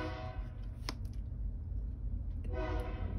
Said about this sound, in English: The train is whistling Happy St. Patrick's Day too.